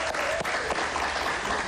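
Applause from a studio audience during a televised interview with a singer, a dense continuous wash of clapping, steady and fairly loud.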